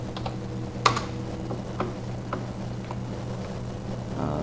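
Sparse keystrokes on a computer keyboard during CAD modelling work, a few isolated clicks with one sharper press near the start, close and fairly quiet over a steady low hum.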